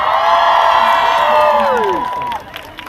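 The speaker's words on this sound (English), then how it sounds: "Give a round of applause to the young speakers today." Outdoor protest crowd in Manchester cheering, whooping and applauding in a loud sustained roar of shouting voices that fades near the end.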